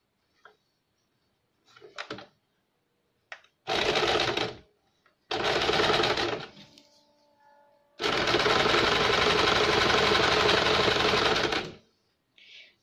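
A sewing machine stitches the inward-folded hem edge of a tucked blouse. Short clicks lead into two brief runs, then a longer, steady whirring run of about four seconds, with no talk.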